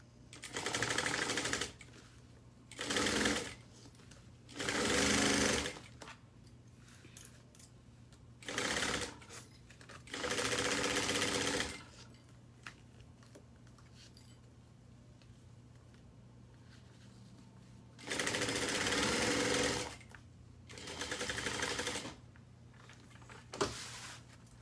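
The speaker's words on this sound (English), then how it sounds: "I'm going to sew this again at 5/8 of an inch." A domestic sewing machine stitches a seam at 5/8 inch in short bursts, seven runs of steady whirring separated by pauses, with a low hum underneath and no talk.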